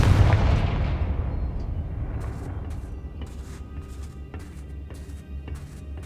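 Fire-spell blasts from the Hogwarts Legacy video game: a loud booming explosion at the start, rolling into a low rumble with several sharp crackling bursts following in quick succession.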